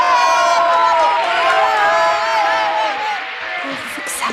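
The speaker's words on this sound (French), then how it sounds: "on l'applaudit tous bien fort" A live show audience of spectators cheering and whooping loudly in a continuous crowd roar, with high excited voices mixed in and no clear gaps.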